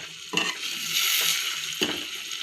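Egg fried rice is stirred in a hot pan, with steady sizzling and frying underneath and two distinct scraping strokes of the spatula against the pan, close and fairly loud.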